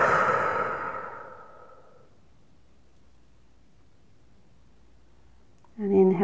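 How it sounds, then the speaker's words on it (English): A big exhale through the mouth, a loud close breathy rush that tapers off over about two seconds into near silence, followed by a brief voice at the end. "So just do a big exhale"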